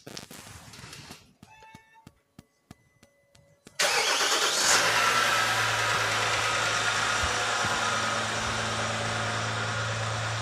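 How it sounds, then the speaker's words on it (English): Jeep Gladiator EcoDiesel engine cold-starts after a few quiet clicks and knocks, catching with a sudden loud crank, then settling into a steady, strong diesel idle. "Is there ever a bad time for a cold start on an eco-diesel engine?"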